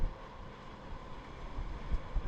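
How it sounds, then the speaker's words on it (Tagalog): Steady rushing wind from Typhoon Pepito roars across the microphone with low buffeting gusts, a constant blustery noise with no voices. "malakas ang hangin."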